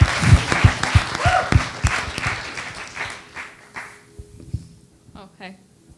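Audience applause at a filmmaking industry talk, a brief burst of clapping that fades out, with people speaking over it.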